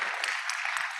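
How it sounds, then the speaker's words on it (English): A brief burst of audience applause follows a talk on happiness, a quick, even spray of many hands clapping at moderate volume for about a second. "Let's have a round of applause."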